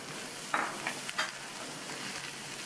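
Onion and garlic sauté in oil with a soft, quiet sizzle, punctuated by a couple of sharp spoon scrapes against the pan early on, then a low steady hiss; no speech.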